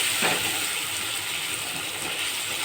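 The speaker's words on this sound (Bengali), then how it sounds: "এবার আমি পেঁয়াজ কুচিটা দিয়ে দেবো।" Chopped onion hitting hot oil in a pan with fried potatoes, a loud, close, continuous sizzle and hiss with a brief sharper burst near the start.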